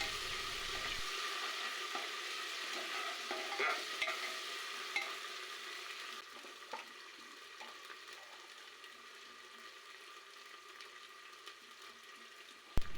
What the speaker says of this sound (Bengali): মশলাগুলো ভাজা হয়ে গিয়েছে